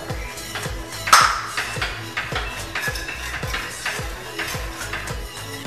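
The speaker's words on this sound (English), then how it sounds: "Slowly add in milk while stirring." A utensil stirs macaroni in a metal pot, repeated close scraping and ringing clinks in a steady rhythm, one sharper clang early on.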